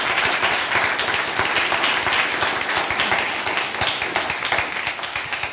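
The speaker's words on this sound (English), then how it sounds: "you deserve a round of applause" A church audience breaks into applause, a loud, close burst of many hands clapping in a dense, uneven rattle that holds steady and tapers slightly at the end.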